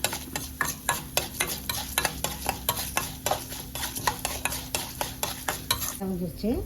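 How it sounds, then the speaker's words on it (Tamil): Urad dal roasting in oil for a Coimbatore-style chutney: a spatula scrapes through it in brisk, regular strokes about twice a second over a constant close sizzle, then the stirring stops near the end. "உளுந்தம் பருப்பு போட்டு நல்லா வறுக்க போகிறோம்."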